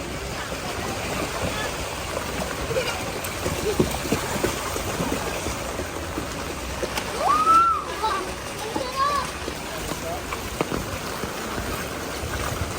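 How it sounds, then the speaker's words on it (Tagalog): Children bathe and splash in street flood water outdoors, with broad watery splashing and sloshing rising and falling over a steady wash of noise, and a few brief voice-like calls mixed in. "Yung mga batang tuwang-tuwa sa paliligo sa baha."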